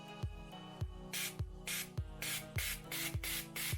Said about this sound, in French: Putain mais ça se spray bien en fait